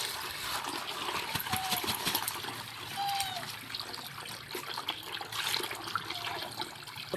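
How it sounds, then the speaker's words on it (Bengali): Tap water runs steadily as cut fish is rinsed by hand, a continuous trickling and splashing stream at moderate closeness with small shifts in flow, plus faint background sounds. "আগে মাছটাকে ধুয়ে তুলে নিই।"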